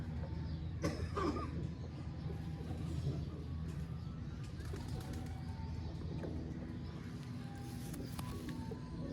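Soft pigeon cooing sits in a steady ambient hum, with a few faint bird calls and occasional rustles nearby.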